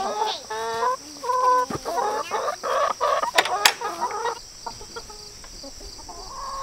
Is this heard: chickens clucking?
yes